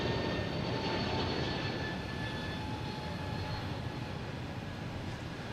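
A JetBlue airliner passing at Boston Logan Airport, a steady loud broadband engine roar that holds for several seconds without fading, no voices.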